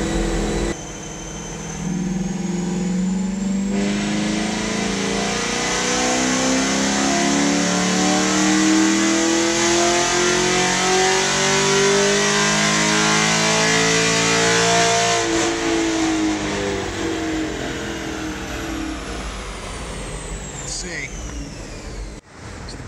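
A Camaro SS, naturally aspirated and running pump gas, revs hard through a full dyno pull, its engine note climbing steadily in pitch over about fifteen seconds before easing off, loud and close.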